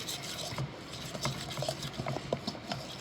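Fruit cornbread batter with almond extract is beaten by hand with a whisk, making a steady, soft wet scraping and slapping patter that runs continuously at close range.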